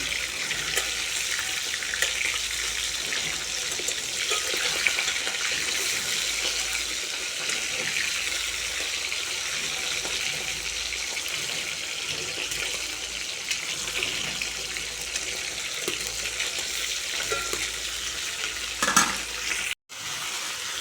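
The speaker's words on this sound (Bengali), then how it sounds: "এইখানে মাছ ভাজা হয়ে গেছে চিংড়ি মাছ আর কাটাপোনা মাছ ভাজা হয়ে গেছে" Prawns and rohu fish fry in a pan, giving a continuous dense sizzle and crackle of hot oil that holds steady throughout, close and loud, cut briefly near the end.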